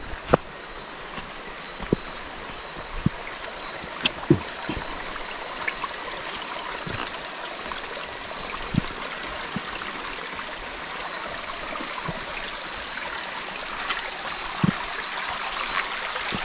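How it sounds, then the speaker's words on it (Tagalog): A river in a forest, swollen by heavy rain, rushes steadily nearby in a constant broadband flow, with occasional sharp clicks and taps over the water and no voices. "Maingay kasi yung ilog."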